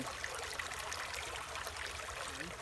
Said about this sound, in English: If you listen to the water, it makes a really soothing sound.